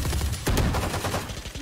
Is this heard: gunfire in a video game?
yes